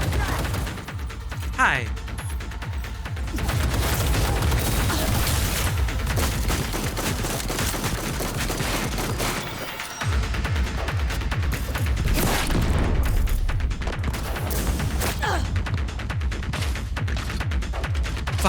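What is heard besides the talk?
sniper gunfire in a video game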